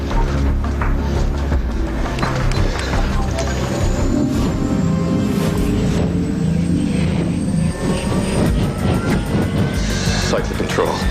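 A helicopter's engine and rotor produce a loud, continuous roaring drone that fills the whole stretch, with voices partly buried beneath it.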